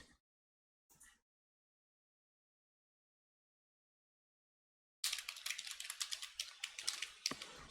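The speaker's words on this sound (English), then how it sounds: "I'm still typing this because I don't know, just for you to see, I guess." Rapid keystrokes on a computer keyboard while someone codes and tests an Angular 9 app, starting after a long near-silent stretch and continuing as a dense, close clatter to the end.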